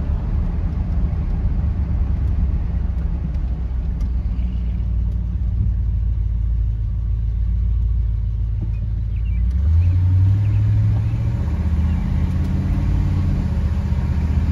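A 1968 Mercury Park Lane Brougham sedan's engine hums as a steady low drone, then builds into a louder, rising rumble as the car accelerates, with no talking.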